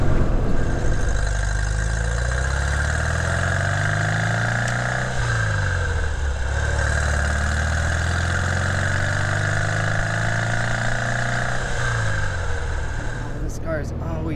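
A classic carbureted sports car engine runs steadily at idle, a loud, close, continuous rumble whose pitch drifts gently up and down as the revs rise and settle, with no talking over it.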